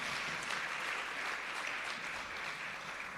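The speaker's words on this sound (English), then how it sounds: "Can we give her another round of applause," An audience at a ministry recognition ceremony claps in steady, dense applause that holds at an even level and eases slightly toward the end.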